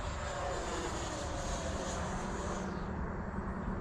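An FMS Avanti 90mm EDF RC jet flies an accelerated stall, its electric ducted fan giving a loud, steady rushing whine that holds throughout before the top end suddenly drops away near the end.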